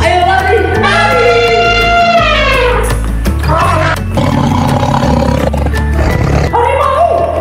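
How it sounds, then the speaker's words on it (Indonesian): A cartoon tiger roaring, loud and close, in long drawn-out growling roars with a falling pitch, one following another over a musical backing. "Harimau."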